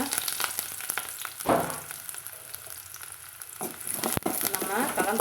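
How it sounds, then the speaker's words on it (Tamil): Mustard seeds, chopped shallots and curry leaves fry in hot oil for a Kerala-style green cowpea kootu, a loud, steady sizzle and crackle with a sharp burst partway through and occasional stirring. "பாருங்கள் ஆயில் சூடாயிடுச்சுங்க நான் கடுகு போட்டுக்கிறேங்க கடுகு போட்டு சின்ன வெங்காயம் வெட்டி வச்சுக்கிறேன் போட்டுக்கிறேங்க"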